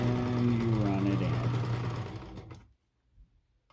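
Sewing machine running steadily as it feeds a strip of fabric through to form cord, a close buzzing hum that stops abruptly near the end, leaving quiet.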